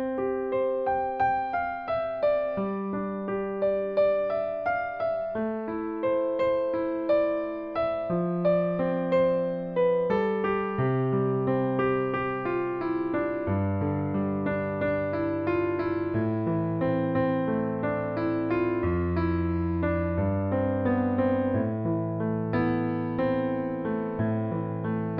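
Solo piano plays the gentle intro of a ballad, with steady left-hand chords under a clear right-hand melody, close and evenly loud throughout with no talking.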